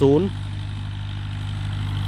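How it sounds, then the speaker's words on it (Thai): A Ford 6610 single-axle tractor engine idles with a steady low throb, after a brief voice at the very start, then runs alone and unchanging. "รถไถฟอร์ดครับ"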